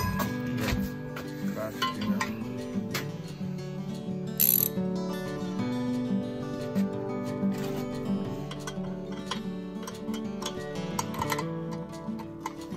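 Ratchet wrench clicking steadily while it turns a blind bearing puller, a close, continuous mechanical ticking over a busy workshop background, with no talk.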